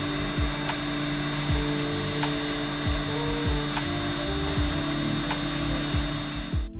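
A hot-air heating tool blows on the charger module of an Apple Watch Ultra woven charging cable, giving a steady whirring hum with faint, regular ticking clicks and a brief knock at the end.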